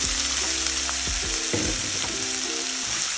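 Boiled jackfruit tipped into a pan of frying green chillies for an Andhra-style jackfruit curry, giving a strong continuous sizzle with a few clattering stirs and scrapes, no voices.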